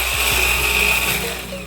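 A Hamilton Beach 3-in-1 hand blender with its whisk attachment runs on low speed, giving a steady, loud motor whir with a high whine and a faint rhythmic thump of the whisk in a bowl.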